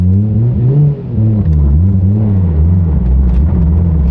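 A Toyota Soarer with a new R154 manual gearbox and twin-disc clutch pulls away in second gear, its engine droning loudly and steadily with a low rumble and wavering pitch, heard from inside the car.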